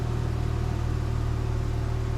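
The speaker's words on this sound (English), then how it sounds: "I'll fire the car up so you can hear that classic flat six turbo" A 2007 Porsche 997 Turbo flat-six idles steadily just after start-up, a close, even, deep rumble with a constant low hum and no breaks.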